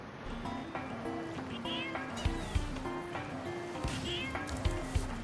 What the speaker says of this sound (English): cheap replica sound effect, the cat meowing?